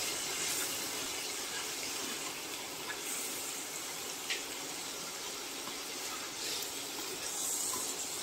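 Fish belly frying in mustard oil with onion, garlic, ginger, turmeric, salt and spices gives a steady, moderately quiet hiss that runs evenly throughout, with a few faint clicks and no talking.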